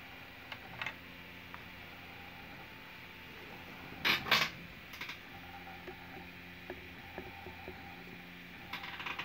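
A 3D printer printing a spiral vase in vase mode, with quiet, steady mechanical whirring and ticking, and a brief louder rattling burst midway.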